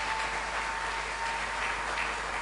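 A church congregation applauds after a scripture reading, giving a dense, steady wash of clapping from many hands that fills the space evenly with no pauses and no voices.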